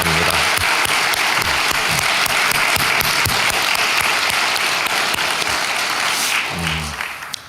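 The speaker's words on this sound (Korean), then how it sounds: "우리 다시 한번 뜨거운 박수로 격려하겠습니다" Warm, sustained applause from a church congregation at a dawn prayer meeting for students, loud and dense, thinning slightly near the end.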